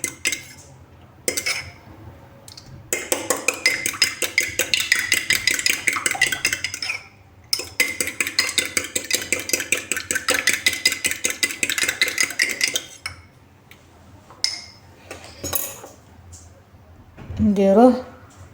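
Egg and ice-cold water being mixed in a bowl for crispy pizza dough: rapid, rhythmic metallic clinking of a utensil against the bowl in two long bursts separated by a short pause, with a brief voice at the end.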